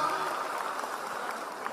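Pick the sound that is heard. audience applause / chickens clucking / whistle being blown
audience applause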